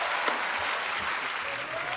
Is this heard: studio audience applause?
yes